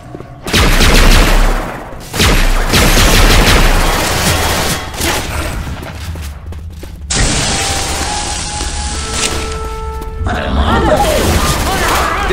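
Dense gunfire rattles through a Left 4 Dead 2 zombie shootout, loud bursts packed together for most of the stretch, broken by a brief lull and a sustained mechanical tone partway through, with game voices calling out among the shots.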